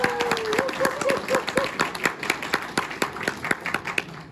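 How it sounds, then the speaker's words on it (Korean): Seminar attendees at a flat glass and window association's technical session applaud a presenter from KCC Glass. The clapping is lively at first, then thins into distinct, spaced claps as it dies away, with a brief voice at the start. "뜨거운 박수 한번 부탁드릴까요?"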